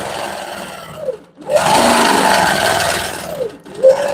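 A sewing machine free-motion quilts a bed quilt, running in a loud, close, steady buzz that pauses briefly, resumes for a long stretch, then stops and starts again.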